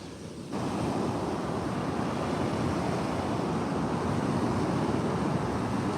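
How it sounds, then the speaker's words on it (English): Ocean waves roll in on a beach while agate hunting at a rising tide, a constant broadband wash of surf with wind noise on the microphone, steady and fairly loud with no talk. "the waves have come in, the tides come up quite a bit since we walked out."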